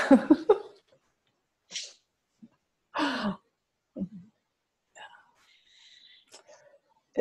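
A single sneeze near the start, followed by scattered soft breaths and small vocal sounds in an otherwise quiet room.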